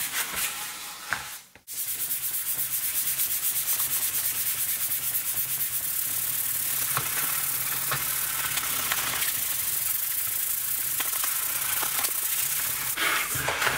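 Steady, continuous rasping as the back of a PRS-style DIY guitar kit body is sanded, close and loud throughout after a brief pause near the start.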